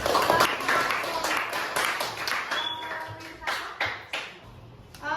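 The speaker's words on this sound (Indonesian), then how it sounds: "Ya, berikan tepuk tangan" Students in a classroom give a short round of applause after a group presentation, a loose burst of uneven hand claps from a small group up close, fading and restarting in scattered bursts with some voices.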